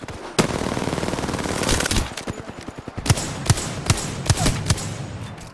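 Fast-firing weapon in the Apex Legends video game: loud, close bursts of rapid automatic shots that give way to a string of separate, evenly spaced shots.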